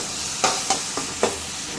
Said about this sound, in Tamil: இப்போ இது கூட நம்ம இஞ்சி பூண்டு பேஸ்ட் ஆட் பண்ணிக்கலாம் இதை நல்லா கிளறி விட்டுக்கலாம்